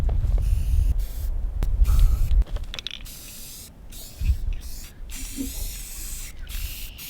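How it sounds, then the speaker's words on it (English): Aerosol spray paint can hissing in several bursts of varying length, with pauses between them, close and fairly loud, used during an E46 subframe overhaul. "Oh yeah, spray paint."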